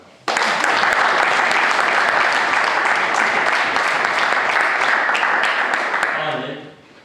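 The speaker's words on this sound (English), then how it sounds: "So big round of applause to Young Life as a whole." A crowd at an evening gathering breaks into sustained, dense applause that starts abruptly and holds steady for several seconds before fading, with a voice emerging at the very end.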